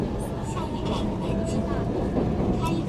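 Steady rumble of a train interior while riding in China, with constant low-frequency noise and faint rattles throughout, and a voice murmuring in the background.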